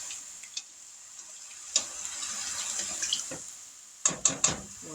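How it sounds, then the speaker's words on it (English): Water is poured into a pot of hamburger soup with tomatoes, a soft thin trickle under a faint hiss, punctuated by a few light clinks and taps against the pot, close and quiet. "We're going to add some water"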